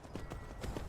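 Horse hooves in the game Skyrim clop in a quick, even rhythm, several close, moderately loud steps.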